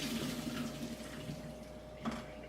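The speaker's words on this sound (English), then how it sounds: "Hit it with that cold water immediately." Cold tap water gushes steadily over strained boiled potatoes in a sink, a continuous broad splashing rush that holds even from start to finish with no voices.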